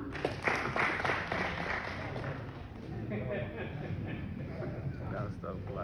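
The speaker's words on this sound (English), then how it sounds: "Can't stop clapping." Audience applause at a university convocation ceremony, a dense rolling patter of many hands filling the hall at steady volume throughout, with some crowd murmur mixed in.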